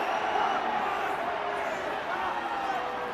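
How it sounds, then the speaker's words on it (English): A rugby crowd at an under-20 Six Nations match between Italy and Ireland roars steadily to urge the Italian side forward near the line, a dense, continuous stadium noise with a commentator talking over it. "And the crowd urged them forward."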